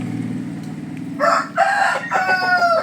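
Rooster crowing loudly and close in rainy weather, a few strained harmonic crows after a low steady background hum, with no talking.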